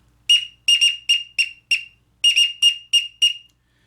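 A teal duck whistle gives a series of sharp, high peeping notes in two quick bursts, imitating a blue-winged teal drake's call, close and clear.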